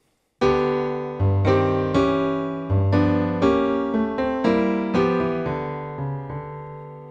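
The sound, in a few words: piano playing straight quavers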